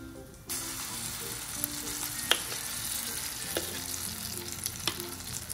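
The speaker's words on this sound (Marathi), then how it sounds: "आता आपण याच्यामध्ये हे बॅटर टाकून घेऊ" Curry leaves and rava batter dropped into hot oil in a pan, bursting into a loud, even sizzle after a brief quiet start, with occasional sharp spoon taps and clinks.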